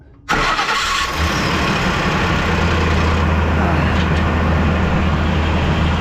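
A 2004 Ford Expedition with a faulty starter turns over abruptly after a moment of quiet, then a loud, close, steady mechanical drone carries on without a break for several seconds.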